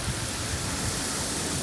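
Heavy rain pours down on a parked car in a dense, constant roar, loud and unbroken throughout with no talking.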